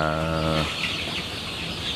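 Low clucking and soft calls from chickens, including roosters, close by in a coop, with a brief harmonic sound at the start before settling into a murmuring flock noise.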